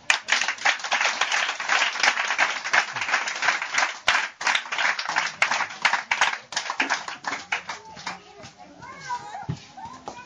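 A church congregation claps in acclamation of Jesus Christ, a rapid, dense patter of hands with voices mixed in, thinning out toward the end as a person talks.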